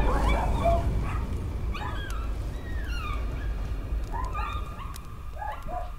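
Dogs in the horror game Layers of Fear bark, yip and whimper in a busy run of overlapping calls, fairly loud and close over a constant low ambient drone.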